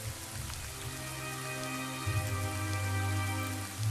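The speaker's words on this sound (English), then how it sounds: "And it's suddenly raining." Rain falls in a video game, a soft, steady patter of drops over a quiet tonal music bed, moderately faint and without any voices.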